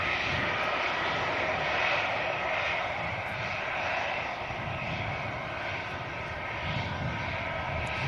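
An easyJet airliner's engines rumble and roar steadily at Manchester Airport, a broad continuous drone heard from some distance with no talking.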